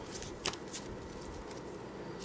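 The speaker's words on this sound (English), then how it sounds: "Shuffle." A deck of Cardfight!! Vanguard cards being shuffled by hand, a short soft riffle with one sharper snap of cards near the start, heard close and quiet.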